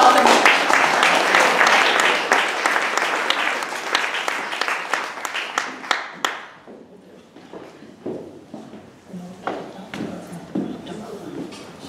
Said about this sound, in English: I was going to ask for a round of applause to welcome our guests.